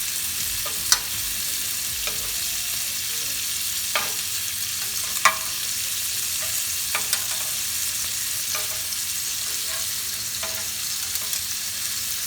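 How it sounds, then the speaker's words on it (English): Kofta kebabs fry in a pan over medium heat, a constant close sizzle broken by a few sharp spatters and light clicks, with no talk. "So now let it cook for another 3 minutes on each side"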